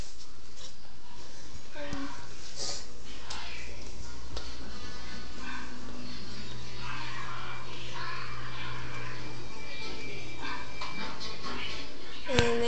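Dogs whimper and yip softly at close range over a steady low hum, with a few faint barks scattered throughout.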